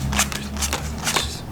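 Ordinary playing cards riffled and handled by a magician before one is picked at random, three quick crisp flicks in close succession, near and fairly loud.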